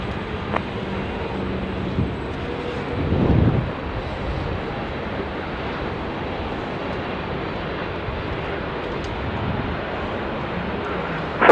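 An airliner takes off from runway 16 right at Sydney Airport, a steady distant engine roar with wind buffeting the microphone, swelling briefly near the start and otherwise holding a constant rumble.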